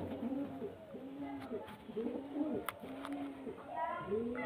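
Several male pigeons coo nearby in a repeated low, throaty rhythm. The coos overlap and keep going through the clip over a soft background murmur.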